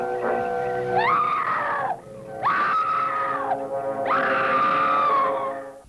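A woman screams in an Ed Wood horror film, three long wailing cries separated by short breaths, loud and close over a faint low score.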